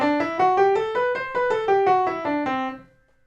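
A piano plays a quick run of single notes up and back down the C Lydian scale, evenly paced, ending on a ringing note that fades.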